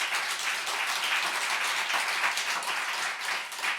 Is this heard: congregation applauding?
yes